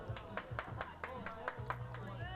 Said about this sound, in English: He applauds himself for successfully converting that spare